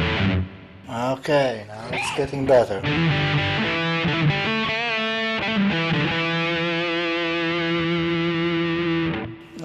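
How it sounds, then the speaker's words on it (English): Electric guitar run through reverb on a Zoom 3030 effects unit, with a few quick picked notes and then long, sustained, loud ringing chords. Someone speaks briefly over the start. "we need to use a reverb"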